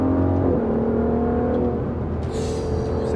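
Aston Martin DBS Superleggera engine, a deep loud rumble with a revving V12 drone that holds steady, dips slightly, then swells again near the end, heard alone without speech.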